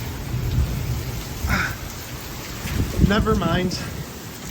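Heavy rain pours steadily during a hailstorm microburst in Phoenix, Arizona, a dense loud roar throughout, with a person speaking briefly over it.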